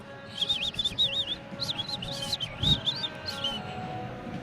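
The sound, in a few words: woman imitating bird calls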